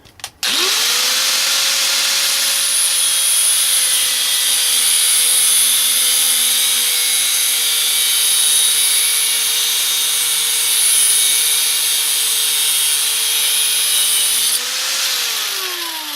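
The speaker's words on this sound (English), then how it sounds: "I'm going to use this cutoff tool here, and I'm just going to cut this off to this length." A cutoff tool slices through a steel distributor adaptor for a late-to-early Mopar Hemi swap, a steady high-pitched whine that spins up, holds loud and alone for about fourteen seconds, then winds down.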